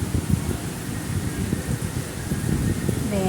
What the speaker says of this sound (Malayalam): കണ്ടോ, നല്ല മഴ പെയ്യും.